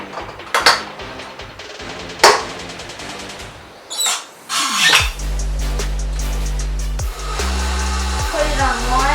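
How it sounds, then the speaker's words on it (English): Utensils clink and knock briefly before a stand mixer with a paddle attachment starts on low, mixing sugar with a steady motor whine that rises in speed, close and loud. "we will grab our leaf attachment and just mix it"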